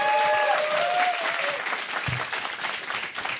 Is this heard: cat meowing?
no